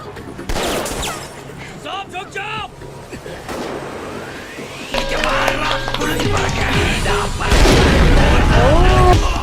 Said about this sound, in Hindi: ये तो अंधाधुंध फायरिंग कर रहे हैं